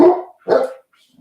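A dog barks twice in quick succession, close and loud, the two sharp barks separated by a brief pause and followed by near silence.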